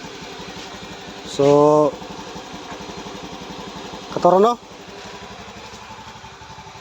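Honda Beat Fi motorcycle engine idling steadily after a gasoline filter fix, a close, even putter that keeps running without stalling, with someone speaking briefly over it twice.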